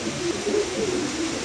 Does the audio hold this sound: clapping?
no